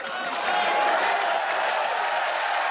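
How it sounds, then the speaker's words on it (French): A crowd of spectators applauding steadily at a Connors–McEnroe tennis match, a sustained, even wash of clapping with no voices standing out. "Et madame applaudit."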